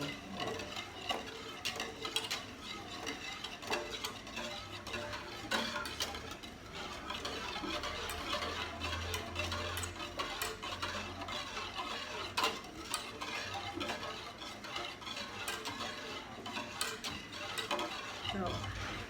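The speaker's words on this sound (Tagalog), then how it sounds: "Kailangan lang continuous stirring" A spoon or whisk stirs gelatin dessert mixture continuously in a pot, giving soft, rapid scraping and clinking against the metal in an irregular, steady rhythm, close and fairly quiet.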